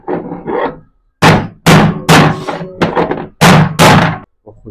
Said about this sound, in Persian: با خشونت تمام زدم جا که حساب کار دستش بیاد